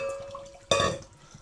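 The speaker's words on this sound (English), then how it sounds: "Rinse these off." Blackberries are rinsed in a strainer under running water, with a brief splash and gush that starts partway through and fades after about a quarter second over a quiet background.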